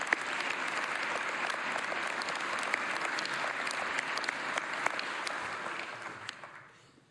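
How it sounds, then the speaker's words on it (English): Sustained applause at a university investiture ceremony: a dense, even roar of many hands clapping in a large hall, steady for several seconds before tapering off at the end. "Let's applaud them."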